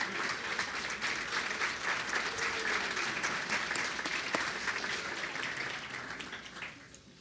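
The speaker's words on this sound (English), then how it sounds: "Can I get you all to stand so we can give you all a round of applause?" Sustained applause from a large crowd at a city State of the City address, as city council members stand; dense, even clapping fills the room and fades slightly at the end.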